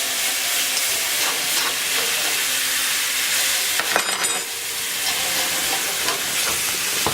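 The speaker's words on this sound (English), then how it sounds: "We just keep whisking." Lemon juice being whisked into a chicken piccata pan sauce over heat, giving a loud, steady sizzling hiss with faint scraping strokes throughout.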